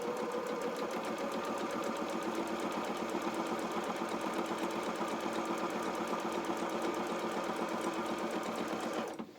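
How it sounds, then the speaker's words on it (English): A sewing machine runs a zigzag stitch across the sleeve hems of a small rabbit doll's opera coat, a steady rapid mechanical chatter at close range that carries on alone for about nine seconds before stopping abruptly. "we're just going to zigzag across the end of the hems of these sleeves"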